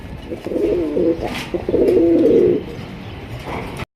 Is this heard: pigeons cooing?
yes